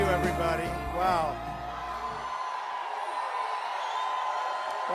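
A large rally crowd in Colorado Springs cheers and whoops, a broad sustained roar that continues steadily after music ends partway through, fairly loud and filling the space.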